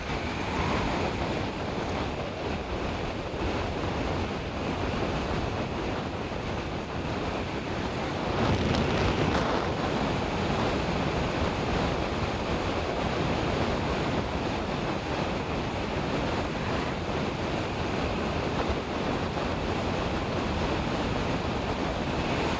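Steady, strong wind roaring across the microphone while cycling on the Tarabya hill, a broad continuous rush with a slightly louder gust midway and no voices.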